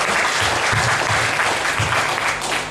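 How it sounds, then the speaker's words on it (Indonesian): A seminar congregation in Timor-Leste bursts into applause for Jesus, a loud, dense, continuous patter of many hands clapping together throughout. "Berikan dulu tepuk tangan bagi Tuhan Yesus."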